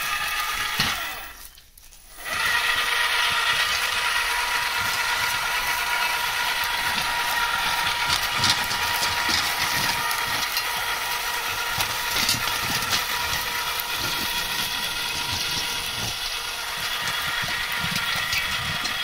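A small power weeder engine with iron wheels runs steadily and loudly with a mechanical rattling vibration, briefly dipping near the start before resuming at full power.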